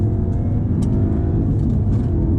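A Volkswagen Golf R engine drones steadily up close, with a brief dip and lift in pitch as a gear change goes through, no pause in the rumble.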